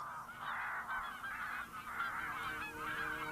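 A flock of geese honks continuously in fields near Altenberg, overlapping calls rising and falling at moderate distance with no voices present.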